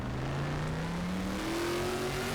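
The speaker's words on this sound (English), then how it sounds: "how can you hate that Corvette sound? That big old naturally aspirated V8" A naturally aspirated V8 in a Corvette Group 5 race car, driven in RaceRoom at Macau, holds a steady, loud drone whose pitch climbs smoothly as it accelerates, with a brief gear-change step midway.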